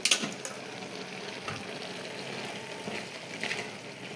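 Tomato mint chutney mixture stirred in a pan, a steady close sizzle and frying crackle with scraping spoon strokes, clearest at the start and near the end, no voices.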